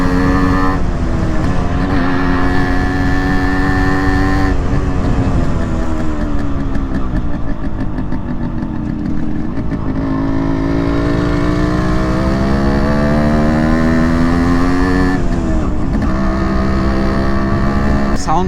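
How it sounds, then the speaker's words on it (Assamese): A modified Yamaha RX100 two-stroke motorcycle engine runs steadily and loudly close by, its buzzing exhaust note rising and falling as the throttle is blipped and revved throughout. "RX100ৰ চাউণ্ড যেতিয়া আপুনি কাণেদি শুনা পায় ন পূৰা লাগি যায় সেইটো বহুত ধুনীয়া চাউণ্ড"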